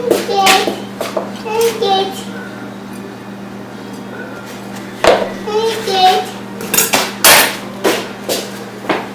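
Dishes go into a kitchen sink with a few sharp clattering knocks spread through the clip, amid children's voices and a constant low electrical hum.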